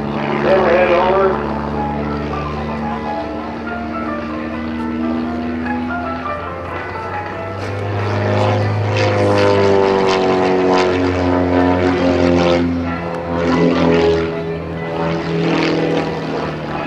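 An aerobatic biplane's propeller engine drones overhead at an air show, its pitch rising and falling as it maneuvers, while a voice talks over it continuously.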